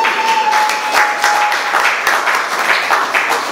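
A small audience at a book launch claps in an even, lively patter for a few seconds, close and fairly loud, with no talking over it.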